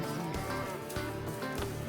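Cattle mooing out on a mountain ranch while a cowboy herds a steer, loud close lowing calls repeating in quick succession with no talk over them.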